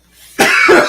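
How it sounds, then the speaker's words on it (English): A single loud, close cough bursts out after a brief quiet breath, rough and throaty. "sorry about the cough"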